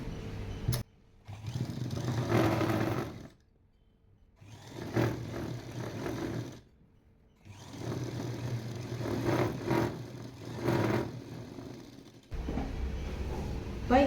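A sewing machine runs in several bursts of steady mechanical whirring, stitching the side seam of a ready-made chudidar top being taken in from 5XL to XL. Short pauses separate the runs.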